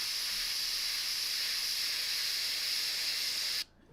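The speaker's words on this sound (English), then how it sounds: "It's not spraying where I want it to." An airbrush sprays paint onto a tabletop miniature, a steady close hiss that holds for about three and a half seconds and then cuts off abruptly.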